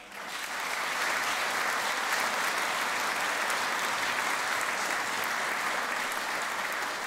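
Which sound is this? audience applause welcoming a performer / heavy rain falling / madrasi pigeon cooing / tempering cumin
audience applause welcoming a performer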